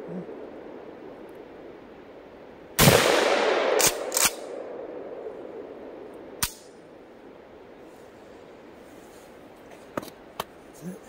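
Several sharp shotgun blasts from a KS7 bullpup shotgun, one loud near report followed by a few quicker shots, then scattered fainter cracks later, each ringing out briefly over a steady outdoor hiss.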